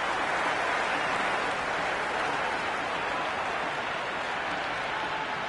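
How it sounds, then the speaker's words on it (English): A stadium crowd at a cricket match in Cricket 26 roars and applauds continuously, a broad, steady wash of cheering noise with no distinct voices standing out. "It's evident and ever so audible that the crowd is at near bursting point at today's play."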